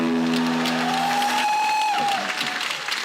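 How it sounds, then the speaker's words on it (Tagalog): A congregation at a worship service breaks into loud, sustained applause, a dense wash of clapping with sustained voices and cheers rising over it before it slowly eases. "Malakas na palakpak."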